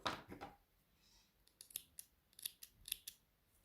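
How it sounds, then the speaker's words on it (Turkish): Scissors snip through yarn threads close up, several quick, crisp metallic cuts in an uneven rhythm in a quiet room. "Tabii makasım keserse şöyle tam dibinden kestim."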